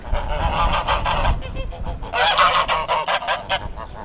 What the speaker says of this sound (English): Some angry geese.